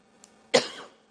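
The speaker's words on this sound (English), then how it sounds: "I've got a cough as well." A single sharp cough bursts out near the mic, preceded by a tiny click and trailing off in a rough, breathy tail, with no talking over it.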